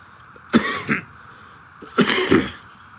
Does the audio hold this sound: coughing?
yes